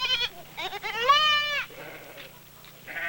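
Several goats bleat in a row in a Dogon village in a hot, dry climate, loud and close, with one long wavering cry in the middle and shorter calls around it.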